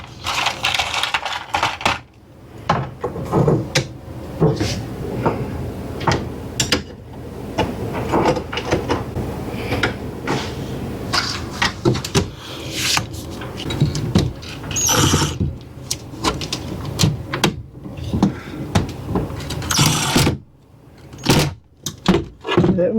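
A cordless drill drives screws into a motorhome kitchen counter in repeated short bursts of whirring and clicking, close up, with brief pauses and handling noises between screws.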